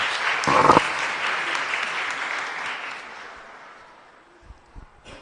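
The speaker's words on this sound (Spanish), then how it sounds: "Y un fuerte aplauso para todos nosotros." A church congregation applauds at the close of Mass, a dense burst of clapping that gradually fades and thins out, ending in a few scattered thumps and knocks.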